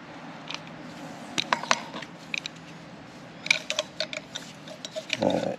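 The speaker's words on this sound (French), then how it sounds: "on dévisse en croix et on revisse en croix" Car wheel nuts being unscrewed in a cross pattern with a hand wrench, giving sparse sharp metallic ratcheting clicks in short bursts, close and fairly quiet over a low background hum.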